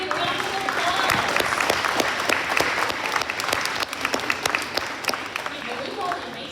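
Sustained applause from an audience at an elementary school student recognition ceremony, dense clapping throughout with crowd murmur and a voice faintly underneath.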